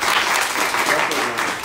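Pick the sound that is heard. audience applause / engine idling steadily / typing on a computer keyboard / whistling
audience applause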